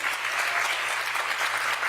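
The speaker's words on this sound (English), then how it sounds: "can we get one more round of applause for the students at Stanton Elementary?" Audience applause for elementary school students at an educator awards ceremony, a dense, even roar of many hands clapping, steady and fairly loud for the whole short stretch.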